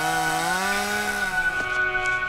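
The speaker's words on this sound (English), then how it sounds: "nor the kickback of a chainsaw" A chainsaw runs steadily at close range, its loud buzzing engine note holding a fairly constant pitch with slight wavering, alone without any talk.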